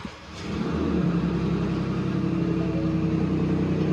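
A 2022 Ford Ranger Raptor engine fires up after a brief crank and settles into a steady, fairly loud mid-pitched idle rumble, heard close up with no talking.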